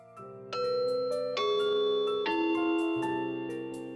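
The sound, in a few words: doorbell ringing in a video game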